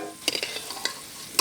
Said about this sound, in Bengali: আলুগুলোকে হালকা লাল করে ভেজে নেব